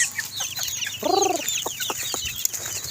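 Young chickens in a range pen give repeated short clucks and chirps, with one louder, drawn-out call partway through, set against a busy background of soft peeps.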